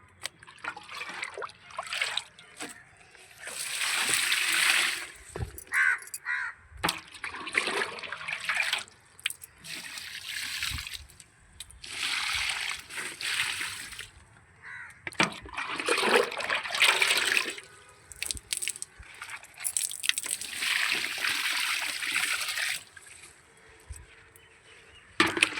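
Old leftover porridge water poured from a container onto a white cucumber plant in a home garden, a soft splashing trickle that comes in several bursts with quiet gaps between.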